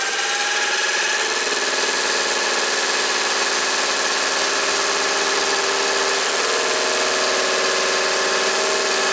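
Machine turning a pump upper support with air gaps in the workpiece at about 14,000 RPM: a loud, steady high-pitched whine with layered tones runs without pause, with a slight shift in pitch partway through.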